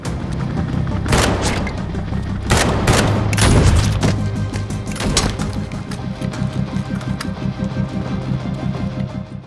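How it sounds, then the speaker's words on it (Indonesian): Loud gunfire crackles through an action film shootout, with heavy bursts and rapid repeated shots over a dense, continuous rumble of battle noise lasting throughout. "Dalam aksi baku tembak itu, beberapa anggota FBI berhasil dilumpuhkan oleh Marco"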